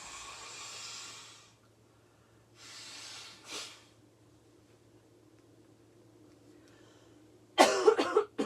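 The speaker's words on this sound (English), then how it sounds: "let me blow my nose" A person blows their nose in a couple of short, breathy snorts, followed by a louder, rougher burst near the end, close to the mic in an otherwise quiet room.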